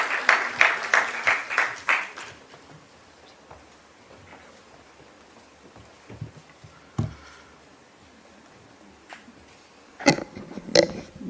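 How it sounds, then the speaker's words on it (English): Audience applause at a TVS Infrastructure stock-exchange listing event in a hall, a burst of clapping in the opening two seconds, a quiet stretch with scattered small noises, then a second short round of clapping near the end. "Let's have a huge round of applause for sir"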